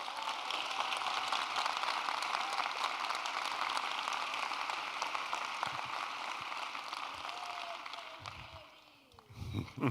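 Sustained audience applause and cheering fills a large room at a State of the City address, dense and steady before tapering near the end, with a voice beginning to speak over it.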